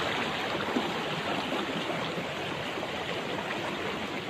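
A mountain stream flows beside a forest trail near Lo Ba waterfall in Mang Den, Kon Tum, a steady close rushing and gurgling of water with no voices, continuous throughout.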